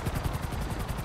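An air ambulance helicopter in the police video game LSPDFR gives a brief, steady rotor thump with rapid pulsing blade chop and no talk.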